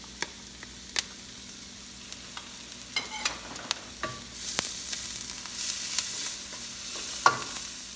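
Garlic hits a hot pan of mixed vegetables, light sizzling with scattered clicks that swells into a brighter, louder hiss midway, a spatula tapping now and then.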